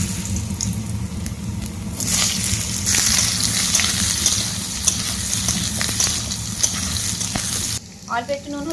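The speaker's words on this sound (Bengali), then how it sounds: "প্রথমে আলু ভেজে নেব।" Potatoes frying in hot oil for khichuri, giving a continuous loud, close sizzle with occasional stirring clatter. The sizzle drops out near the end, where a faint voice comes through.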